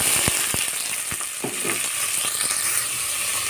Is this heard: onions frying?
yes